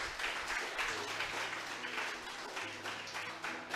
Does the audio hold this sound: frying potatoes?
no